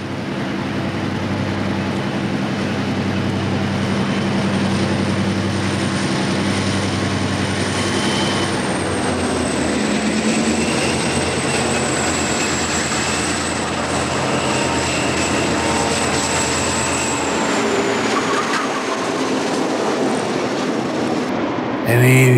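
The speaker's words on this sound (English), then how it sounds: "Advertised that it's a Landbridge train." A Landbridge freight train on the Delaware & Hudson rolls past with a loud, continuous low rumble and a sustained high whine, steady for about twenty seconds before cutting off at the end.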